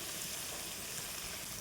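Salt and turmeric with spices frying in a pan while cooking mango amsol, a steady soft broadband sizzle throughout, close and even with no talk.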